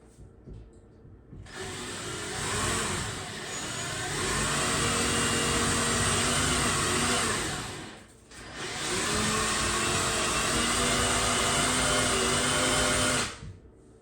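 A power drill bores into a concrete wall while a TV is being wall-mounted, giving two long, loud, steady whining bursts with a brief pause between them, close up and with no talk.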